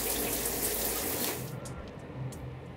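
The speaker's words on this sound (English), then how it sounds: "So yeah, time to take a shower." A shower runs at night at home, its water pouring in a loud steady hiss that eases somewhat partway through and then continues more softly.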